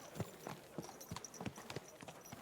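Horse hooves clip-clop at a steady walking rhythm on hard ground in Kingdom Come: Deliverance II, about eight crisp, evenly spaced strikes, fairly quiet and heard alone.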